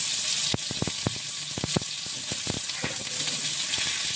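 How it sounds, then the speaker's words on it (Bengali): Potato and radish fry in hot oil with salt and turmeric, a continuous sizzle close by, broken by sharp scraping clicks of a spatula stirring in the pan. "এই যে আলু আর মূলোটাকে আমি একটু ভেজে নেব"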